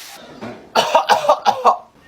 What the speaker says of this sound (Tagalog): Inuubo ka ba? Opo, inuubo po ako.